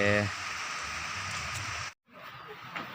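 Heavy rain pours down steadily in a dense, loud hiss that breaks off for a moment before continuing, with a voice heard over it.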